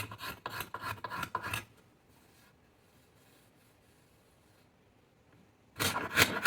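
Pocket knife scraping bark off a wooden bow, a series of short rasping strokes up close, then a long quiet pause before the scraping resumes loudly at the end.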